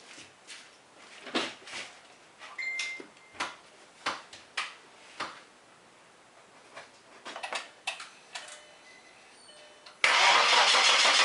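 An Audi Allroad 2.7 Quattro is started from a cheap Harbor Freight jumper box. A series of short, uneven cranking bursts gives way to the engine catching into a loud, steady run at the end.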